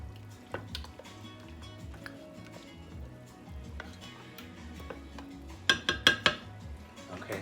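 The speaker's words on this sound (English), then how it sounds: "we're gonna stir the shrimp in there" Spoon stirring shrimp in a pot for shrimp and crab bisque, soft scraping and faint clinks with a quick run of louder metallic taps near the end.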